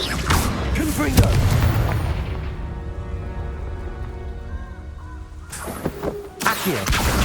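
Booming Confringo explosion spell blasts in Hogwarts Legacy, a heavy impact early on with crashing debris, a quieter stretch, then another sharp burst near the end.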